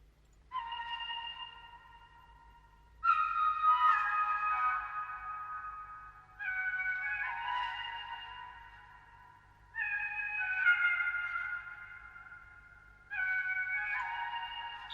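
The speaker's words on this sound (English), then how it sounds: "I complemented the chord with this flute melody," An Omnisphere flute melody from a melodic drill beat plays alone as soft, breathy phrases in repeating two- to three-second bursts, clear and mid-loud.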